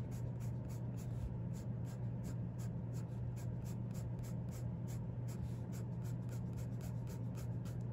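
Colored pencil cross hatching on paper produces quick, even scratchy strokes in a steady back-and-forth rhythm, soft and close, with a low background hum and no talking.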